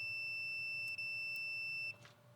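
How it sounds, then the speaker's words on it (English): A multimeter in continuity mode gives a steady, thin electronic tone while probing winch in-cab control switches; the beep holds for about two seconds and then cuts off in a quiet room. "I've got it in conductivity mode, so whenever there's good conductivity between the two probes, we get a beep."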